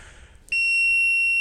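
A sudden steady electronic beep from a multimeter continuity test on a TV fuse starts and holds continuously, a clear high tone against a quiet background.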